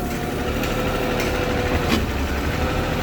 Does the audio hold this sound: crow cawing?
no